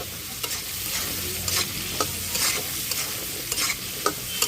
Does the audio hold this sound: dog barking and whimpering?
no